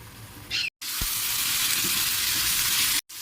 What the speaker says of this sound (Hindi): अभी इसमें ऐड करूँगी मैं टोमेटो, जल्दी जल्दी ऐड करूँगी और इसे अच्छी तरह से मिक्स कर लूँगी।